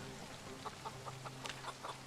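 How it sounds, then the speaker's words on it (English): Chickens in the video game Project Zomboid cluck in short, scattered bursts at low volume over a soft background hum, with no talking. "Look at all those chickens."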